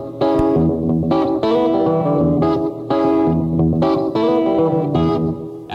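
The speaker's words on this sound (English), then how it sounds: "Now we press the reverb button." Rhythmic Vox Thomas organ chords played in short phrases with the reverb effect on, each note trailing off with a roomy reverberant wash between the stabs.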